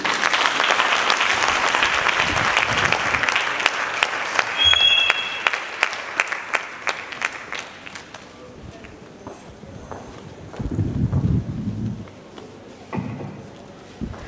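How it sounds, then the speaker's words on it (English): Audience at a language conference applauding after a presentation, loud, dense clapping for about eight seconds that then thins and dies away, followed by scattered sounds and a voice speaking. "Please, you can clap better than that for Professor Francis Ikohari."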